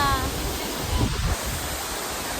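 Hulugan Falls in Luisiana, Laguna, roars as a steady broadband rush of falling water, close and continuous, with wind buffeting the microphone and a brief voice partway through.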